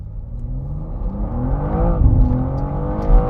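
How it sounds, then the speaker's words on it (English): A rear-wheel-drive BMW M2 G87 launches hard off the line on warm tyres, its engine rising loud and close through a climbing rev sweep, with the tone building steadily before a brief peak at the end. "do a little bit of a launch then to see what this car's like off the line"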